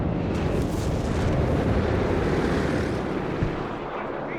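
A reconnaissance aircraft passes over a battlefield in Company of Heroes 3, a broad, roaring drone that swells and holds loudly before easing off near the end.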